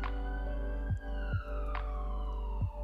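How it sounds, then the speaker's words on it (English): A distant ambulance siren in a video game, a steady sustained wail that slowly falls in pitch over a continuous low hum, with a few soft thuds. "an ambulance siren is heard in the distance"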